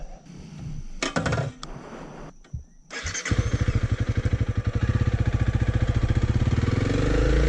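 A Honda CRF300L dual-sport motorcycle starts up after some clunks and handling noises, then its single-cylinder engine settles into a close, loud, steady thumping idle.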